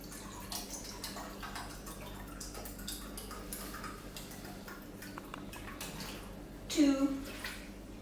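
Fresh mountain water pours into a measuring cup for orange marmalade, a thin quiet trickle with soft drips and a brief louder splash near the end.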